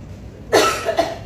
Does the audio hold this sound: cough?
yes